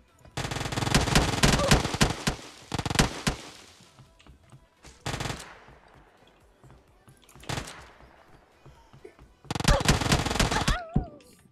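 Bursts of Uzi submachine gun fire in PUBG Mobile, several loud rapid volleys separated by pauses, with a faint voice in the quieter gaps.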